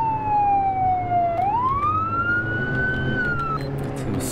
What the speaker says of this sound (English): do you not see lights and sirens behind you?